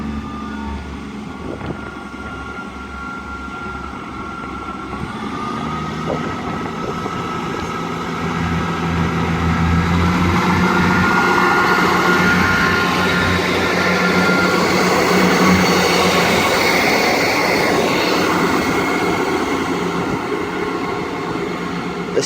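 A ScotRail train departs Linlithgow station toward Edinburgh Waverley. A steady, swelling rumble and hum build as it pulls away and stay loud and continuous, with a faint high whine and no talk.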